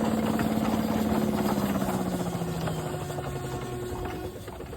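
A threshing machine engine runs at a thrashers' reunion, a steady droning hum with a slowly falling pitch, close and continuous throughout.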